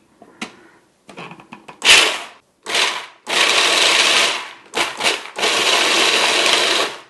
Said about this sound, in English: I'm now going to pulse this until it turns into a sand-like texture.